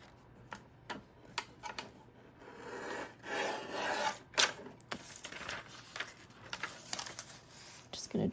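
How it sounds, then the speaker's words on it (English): A paper trimmer cuts an illustrated Little Golden Book page, with scattered clicks and taps around one longer rasping slice, heard up close. Someone speaks over parts of it. "just gonna try to trim this the best I can. This trimmer is not my favorite."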